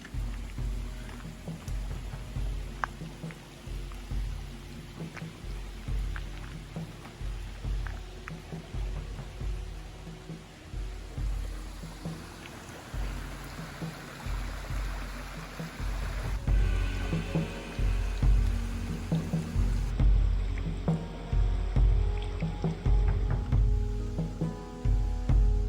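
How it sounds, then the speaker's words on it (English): Steady rushing and splashing of a waterfall beside the Natchez Trace Parkway, a continuous broadband roar with gentle trickling detail that grows somewhat louder toward the end, no voices. "there's a waterfall here on the trace"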